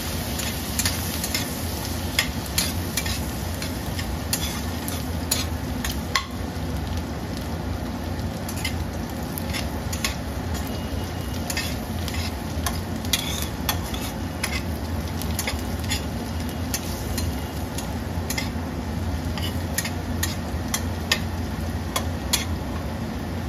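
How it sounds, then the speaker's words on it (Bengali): Chicken drumsticks being stirred in a pan, a steady close sizzle with scattered scraping clicks of the spoon running throughout. "এবারে এতে একটু নেড়ে চেড়ে দেবো।"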